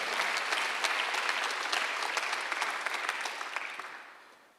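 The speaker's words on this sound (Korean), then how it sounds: "박수 하나 더 주세요" A church congregation at a Sunday worship service claps together in steady, dense applause that holds strong, then tapers off toward the end.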